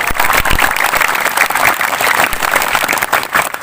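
Sustained, loud applause from a packed audience at an Isra Mi'raj religious gathering, many hands clapping densely and evenly for several seconds.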